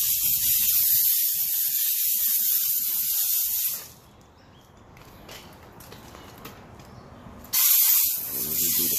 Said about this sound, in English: Just a quick little pre-wash. Pre-soak or whatever you wanna call it.